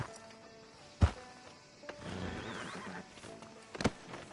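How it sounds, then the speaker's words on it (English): A horse in Red Dead Redemption 2 whinnies sharply, followed by a second snort or whinny a few seconds later, with rustling and soft background sounds in between. "Can you grab Anders off your horse and carry him in for me"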